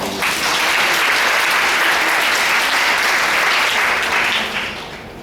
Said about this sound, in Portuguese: uma salva de palmas, por favor, para ela